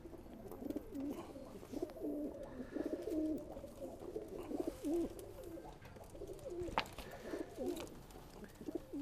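Pet pigeons at a pigeon keeper's coop in Burewala coo steadily and softly, overlapping low calls close by over faint background noise.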